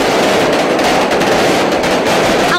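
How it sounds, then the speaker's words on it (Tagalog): Hundreds of thousands of small and large firecrackers go off at a New Year celebration, a loud, dense, continuous crackle of overlapping bangs with no gaps. "dito, tumagundong ang daang libong maliliit at malalaking firecrackers"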